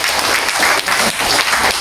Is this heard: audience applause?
yes